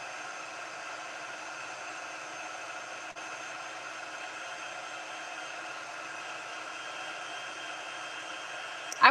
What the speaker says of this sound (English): we're going to use our heat tool for this one too